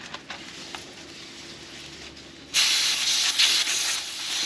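Air hisses from a tire valve stem while a TPMS sensor is screwed on, starting abruptly as a loud, steady rush after a stretch of quiet handling noises.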